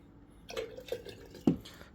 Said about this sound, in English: we got that wash poured out